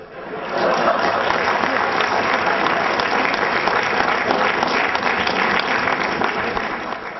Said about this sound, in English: It's all thanks to this kind of applause that we have reached that.